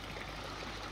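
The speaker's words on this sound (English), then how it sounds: "we've got a couple of emergency pipes returning water." Water trickling and splashing steadily from emergency return pipes into a garden pond, a continuous close broadband wash with no talk over it.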